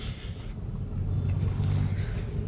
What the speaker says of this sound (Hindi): अब मैं चाबी को एक बार घुमाऊंगा, ये हो गई गाड़ी चालू। गाड़ी चालू हो गई, देखो।